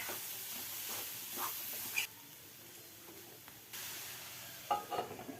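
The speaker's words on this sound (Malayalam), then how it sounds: "ഇത് നല്ലപോലെ ഒന്ന് ഇളക്കി അടച്ചു വെക്കാം" Beans stir-fry cooking in a pan that is covered afterwards: a soft sizzle with scraping stirs and a couple of light clinks, quiet and close, with a brief lull in the middle and no talk.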